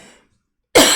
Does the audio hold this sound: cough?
yes